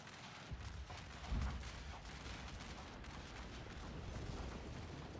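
Distant battlefield rumble from Shogun 2: Fall of the Samurai, with artillery firing shrapnel shots, a single muffled boom standing out early amid a steady low roar, with no talking.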